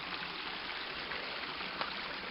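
A small stream flows over stones outdoors, a steady close trickle and gurgle of water with a faint brief splash near the end, no voices.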